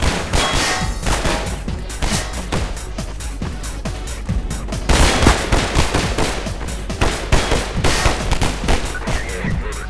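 Dense, loud gunfire from the first-person shooter Half-Life 2: rapid shots and sharp metallic cracks keep coming for the whole stretch, with bursts packed close together and no pauses.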